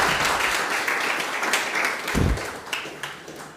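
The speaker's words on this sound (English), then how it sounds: "And give these two people a big round of applause." An audience at a mental health forum applauds two speakers, a steady crowd of clapping hands with a low thud partway through, continuing to the end.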